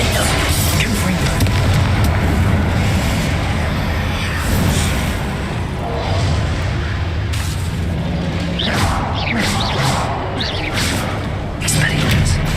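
Confringo fire spell blasts in the wizarding game Hogwarts Legacy, repeated booming explosions and whooshes in a loud, busy combat mix, with a person talking over the action.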